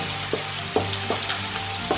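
Chicken pieces cut near the ribs, still on the bone, stir-frying in a pan for a Medan-style lontong vegetable dish: steady close sizzle with several sharp scraping stirs at irregular intervals, no talking.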